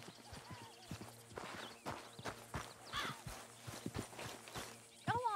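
Hooves of a horse clip-clopping at a steady walking pace in Red Dead Redemption 2, sharp close hoof strikes repeating alone with no talk over them.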